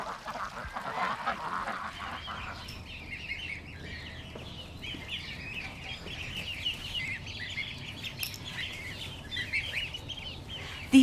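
Baby geese and ducklings call from a group outdoors, a continuous busy chorus of high peeping and chirping that stays fairly steady at moderate loudness throughout.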